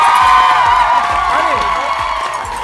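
Studio audience on a Korean variety talk show claps and cheers loudly for an idol guest, with whoops and shouts over dense applause that slowly fades.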